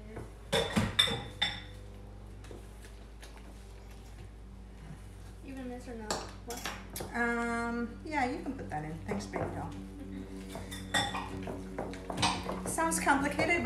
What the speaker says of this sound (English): we are just going to mix all of these together